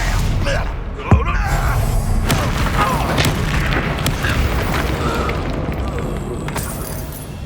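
A Confringo fire spell bursts in Hogwarts Legacy amid loud, dense combat noise, with a sharp blast near the one-second mark over continuous rumbling effects.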